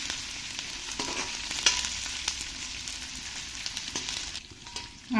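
Chopped onion sizzles in a hot tempering of oil with peanuts for Nagpuri tarri poha, a steady moderate hiss with scattered crackles and a few stirring scrapes, fairly close, no talking.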